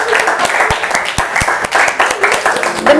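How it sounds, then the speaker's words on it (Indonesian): Classroom audience applauding a student group after a question-and-answer session, a short burst of clapping with a few sharp distinct claps standing out near the front, mixed with some voices. "Oke, tepuk tangan dulu."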